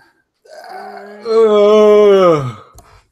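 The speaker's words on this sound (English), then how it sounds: "He likes big yawns and he cannot lie." A man gives one big, drawn-out yawn, starting as a low breathy groan and swelling into a loud, sustained moaning tone before trailing off, alone and close.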